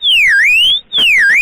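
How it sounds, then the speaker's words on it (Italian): A burglar alarm sounds at a bike shop, a loud electronic siren sweeping down and back up in two close repeated wails with a brief gap between them. "scatta l'allarme"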